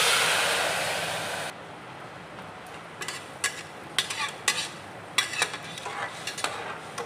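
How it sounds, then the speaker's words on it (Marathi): Hot water poured into roasted lapsi in a pot, a loud hissing gush for about a second and a half, then quieter with scattered clinks and scraping of a spoon against the vessel. "तर आता मी जे गरम पाणी केलं आहे ना ते मी ह्याच्यात टाकणार आहे"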